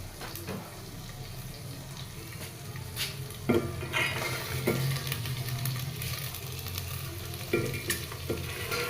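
Mung beans are stirred into sizzling rendered pork fat in a pan, a steady frying hiss with scraping stirs and occasional clanks of a utensil against the pan.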